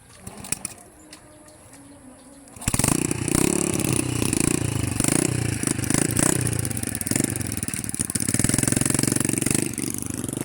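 Motorcycle engines start up and idle after a quieter stretch with a few clicks, then run as a loud, steady, rough rumble with clattering close by.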